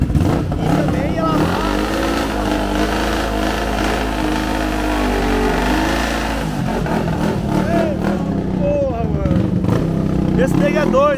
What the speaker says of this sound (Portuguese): a moto, ela realmente, ela tá com barulho de dois cilindros